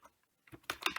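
Keys on a computer keyboard are typed to enter an email address. A brief silence comes first, then a quick, close run of sharp clicks.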